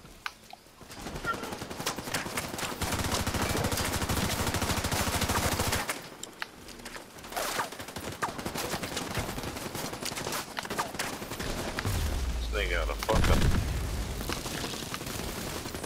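Rapid automatic gunfire in a multiplayer shooter match, sustained bursts of rattling shots with a few heavier booms, loud and close, pausing briefly midway before resuming with scattered fire.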